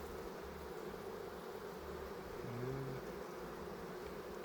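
Bees drone in a steady, soft buzz around an open hive in Cuba, a low continuous hum with a few closer insects passing briefly overhead.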